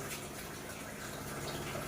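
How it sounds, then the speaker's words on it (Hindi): RO water is poured into a bowl of washed rice in a home kitchen: a steady, soft, continuous splashing and trickling that runs unbroken from start to finish, with no voices. "अब इसमें आरो का पानी डाल देती हूँ और भिगो कर रख दूँगी"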